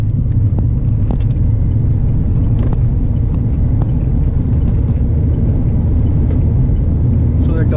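Continuous low rumble of a Mahindra XUV 500 SUV's engine and road noise heard from inside while driving, steady and loud throughout with faint clicks and knocks above it.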